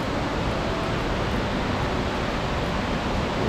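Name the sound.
mountain waterfall cascade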